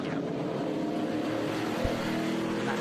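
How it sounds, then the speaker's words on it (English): A Chevrolet Monte Carlo stock race car runs at a Sebring vintage racing event, a steady, fairly faint engine drone heard from a distance without pause. "Donnie Strickland in that Monte Carlo. Sounds great."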